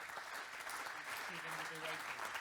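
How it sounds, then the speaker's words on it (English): Conference audience gives the panelists a round of applause, a steady wash of clapping at moderate level while a voice speaks briefly over it. "Please, a round of applause for my panelists."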